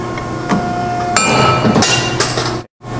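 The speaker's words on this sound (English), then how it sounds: "Now we're working on the angle shear." A Scotchman 5014ET 50-ton hydraulic ironworker's slug-style angle shear, rated 4x4x3/8, cuts steel angle. A steady hydraulic hum runs under loud metallic clanks and grinding, with a brief cutout near the end.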